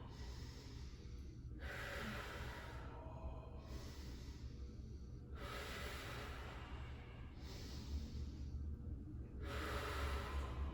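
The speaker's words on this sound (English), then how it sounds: "Hug that belly button in, and we breathe." Slow, deep breathing during a yoga sculpt pose, with long airy inhales and exhales alternating in a steady rhythm of about four or five breaths, close but quiet and with no talking.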